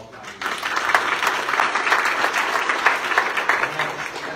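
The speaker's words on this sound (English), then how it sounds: "we need to give her a round of applause." Steady applause from an audience at a county mayoral candidate forum honoring a retiring public school educator, a dense wash of many hands clapping that starts after a brief pause and continues loud and sustained throughout.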